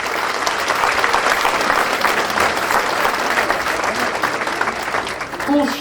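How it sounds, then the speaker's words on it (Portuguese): Sustained, dense applause from a crowd, steady and loud throughout with no pauses. "peço uma grande salva de palmas para o Kevin Santos."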